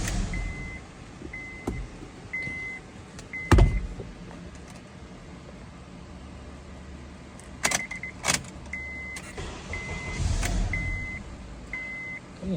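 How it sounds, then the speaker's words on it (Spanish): A 2009 Honda Accord with an ECM fault is cranked, catches briefly and shuts off. Keys jingle, repeated warning chimes sound, and sharp clicks and thumps punctuate the low engine noise, all quite faint. "Y vamos a darle marcha para ver qué es lo que nos hace."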